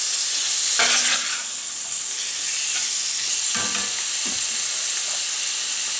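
Drained canned mushroom pieces are stirred in a hot pan, giving a constant loud sizzle with two distinct scraping strokes.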